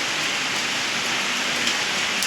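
Steady rain pours down outdoors, a dense continuous hiss of drops striking surfaces, close and even throughout with no voices.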